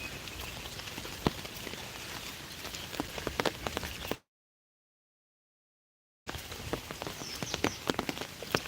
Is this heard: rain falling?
yes